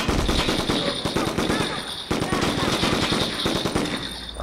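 Rapid bursts of automatic gunfire in the video game 25 to Life, loud and dense, firing almost continuously with a brief break midway.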